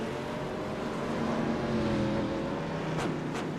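A 19-car field of race cars at Phoenix Raceway accelerates as the pace car pulls off, a continuous, dense engine roar with rising harmonic whine and a faint passing burst near the end.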